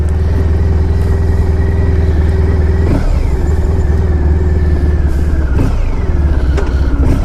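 A 1994 Honda ST1100 motorcycle rides along steadily with a loud, continuous engine drone, close and constant throughout, with a few brief bumps or gear shifts around the middle.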